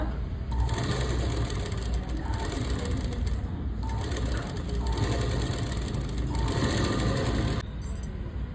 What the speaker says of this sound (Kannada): ಎಡ್ಜಿಗೆ ಕರೆಕ್ಟಾಗಿ ಸ್ಟಿಚ್ ಹಾಕ್ಕೊಡಿ ಆ ಥರ